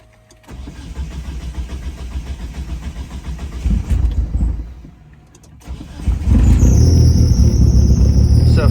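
A Mitsubishi Eclipse GSX with FIC 2150 injectors makes a cold morning start: starter cranking, a catch, a brief dip, then a loud rising idle with a high belt squeal, no talk.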